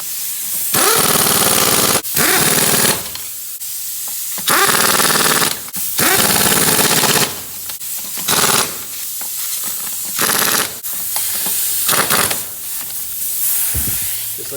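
An impact wrench tightens wheel lug nuts on a 1994 Ford F-150 in a series of loud, close bursts of hammering rattle, each lasting a second or so, separated by short pauses.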